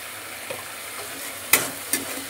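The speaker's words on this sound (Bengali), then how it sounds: "এইবার ভালোভাবে মশলাটাকে কষিয়ে নিতে হবে।" Masala, potatoes and soft tomatoes are sautéed in a pan for a fish curry, a low sizzle running beneath a few sharp spatula scrapes and knocks near the end.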